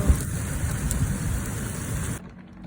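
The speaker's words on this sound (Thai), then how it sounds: "ฝนตกค่ะ" Heavy rain hisses steadily for a couple of seconds, then drops off abruptly to a much quieter background.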